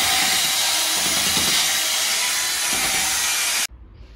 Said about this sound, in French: découpe de carrelage